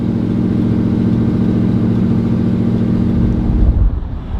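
A vintage truck engine idles steadily on a high idle, loud and close, with a steady low rumble that swells slightly before easing near the end.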